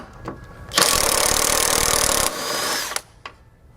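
A power tool, likely an impact or ratchet, whirs in one sustained burst lasting about a second and a half, loosening 21 mm lower motor mount nuts, followed by a softer spin-down and a few clicks and clunks nearby.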